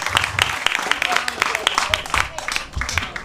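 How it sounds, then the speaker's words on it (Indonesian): Applause from an audience at a Balinese comic dance-drama performance: a scatter of uneven claps of varying strength, joined by voices and some low rumbling. "Tepuk tangan untuk penabur duit ini dumun"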